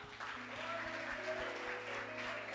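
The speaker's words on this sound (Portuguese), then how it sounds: "Você pode aplaudir o Senhor." Soft, distant applause from a congregation at an evening Baptist church service, a faint wash of clapping over sustained keyboard or organ tones.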